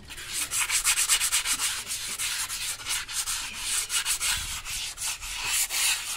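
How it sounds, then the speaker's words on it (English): Rhythmic rasping strokes of a sanding sponge rubbing against a horse's hoof, repeated back and forth in quick, even passes, close up. "just going over with the sanding sponge"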